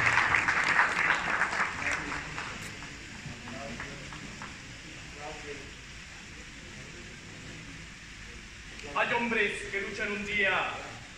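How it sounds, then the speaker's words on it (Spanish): Strong applause from an audience at a youth confederation event for a poet, loud at first then fading over several seconds, with speech following as the clapping trails off. "Por favor, Eduardo, un fuerte aplauso"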